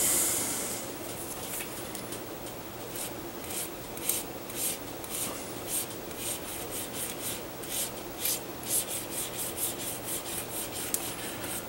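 Light wet-sanding of a glossy finish with 1500 grit sandpaper, a soft, steady rasping rub of repeated short strokes, close and alone.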